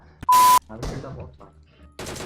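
Gunfire in the video game PUBG Mobile, a short burst of sharp, loud shots cutting in and then returning at the end, with someone talking excitedly over it.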